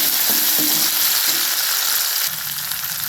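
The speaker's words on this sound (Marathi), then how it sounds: "लसूण छान भाजून घ्यायचे आपल्याला लालसर" Garlic fries in a pan, crackling and sizzling in a dense, close hiss with a few soft knocks of stirring, and the tone shifts slightly near the end.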